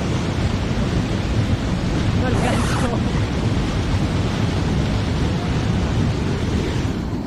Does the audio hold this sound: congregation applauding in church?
no